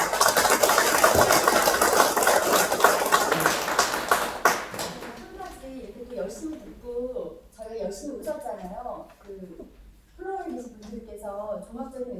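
An audience applauds after a school violence symposium panel, a burst of dense clapping for several seconds that fades as a voice starts speaking.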